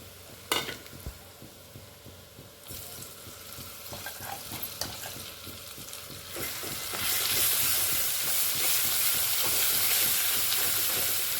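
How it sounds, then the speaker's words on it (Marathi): Marathi-style tempering (phodni) for amti, spices crackling in hot oil: sporadic pops and stirring clatter at first, building into a loud, continuous, close sizzle for the last few seconds. "तर चला आता आमटीला देणार आहे फोडणी"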